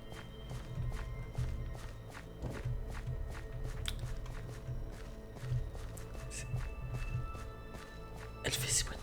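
Footsteps of a ghostly entity in the Minecraft video game, a steady series of soft, evenly spaced steps over a low background hum, fairly close, with a louder burst near the end.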